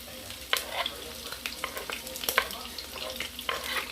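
Chicken, shrimp and vegetables cooking in a hot pan for a sweet and zesty chicken and shrimp dish, a constant close sizzle broken by sharp scraping stir strokes at irregular intervals.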